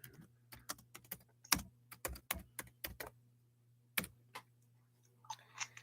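Fingers type on a computer keyboard in quick, irregular bursts of crisp, close clicks with brief pauses between them, a faint steady hum underneath and no talk.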